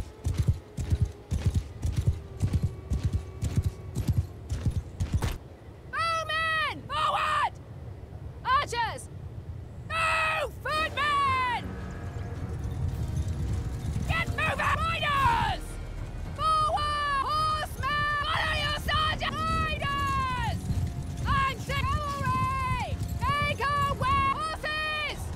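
Galloping horses in a Mount and Blade Bannerlord battle, with rapid rhythmic hoofbeats at first, then repeated whinnies and neighs over a rumbling crowd of soldiers, loud and close throughout.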